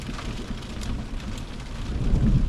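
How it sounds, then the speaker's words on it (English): Thunder rumbles low and continuous during a thunder snow storm, with a steady wash of precipitation noise on top, no voices. "Thunder snow, that's very rare."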